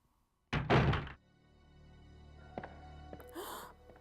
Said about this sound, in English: This is the door I use opening with the heart key.